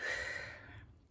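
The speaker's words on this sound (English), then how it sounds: "Or first you exhale" A person exhales before drawing on an incentive spirometer: one close, breathy outflow of air that is strongest at the start and fades away over about a second.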